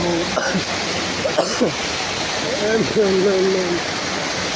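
Continuous rushing rainwater flows like a stream, with a voice speaking over it in short bursts.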